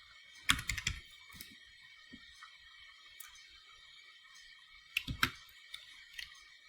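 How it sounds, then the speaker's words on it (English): Bursts of typing on a computer keyboard while entering text into an HTML table, with a quick cluster of keystrokes near the start and another near the end, light clicks in between, fairly close and alone. "I am going to type in the comment for table."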